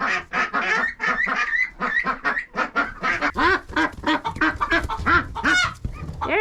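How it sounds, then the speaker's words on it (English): Ducks quack loudly and repeatedly as they leave their coop on a farm, a close, busy chorus of overlapping honking calls that barely pauses. "The ducks probably don't have water at this point."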